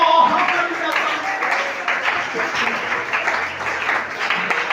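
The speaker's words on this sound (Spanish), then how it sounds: "A ver ese aplauso fuerte al Señor." A church congregation applauds loudly during a Sunday school sermon, a steady dense wash of clapping that carries on throughout, with a voice speaking over it.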